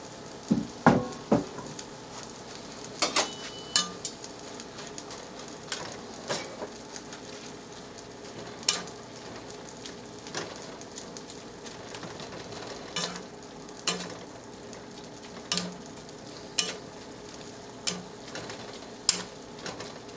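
Mushrooms and finely diced onion fry in a pan with a low continuous sizzle, punctuated by scattered clicks and knocks of a utensil stirring against the pan, close and fairly quiet throughout.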